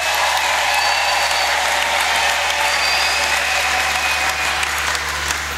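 A church congregation breaks into loud, sustained applause, a thick, even patter of many hands clapping together without a break for several seconds.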